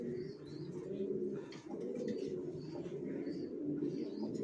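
Racer pigeons coo softly in low, repeated murmuring calls, fairly faint and close, with a few light chirps mixed in and no talking.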